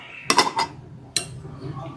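A spoon scrapes and clinks against a bowl in two short close bursts, with a quiet pause between them.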